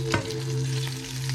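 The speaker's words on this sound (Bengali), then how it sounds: "আশা করি তো মাছ ভাজা হয়ে গেছে" Fish frying in a pan, a steady close sizzle with a brief stirring clatter near the start.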